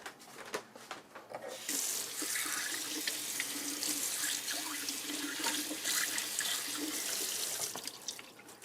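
Tap water runs steadily into a kitchen sink while a ladle used for homemade ketchup is rinsed off, a close, continuous splashing rush after a few brief clinks and drips at the start.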